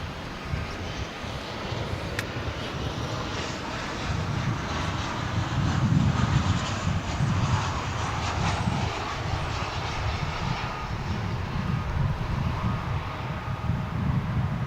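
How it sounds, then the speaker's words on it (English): An American Airlines jet, flight 2950, roars steadily at DFW International Airport, a broad engine rumble with wind noise that swells slightly midway and holds without speech. "American 2950."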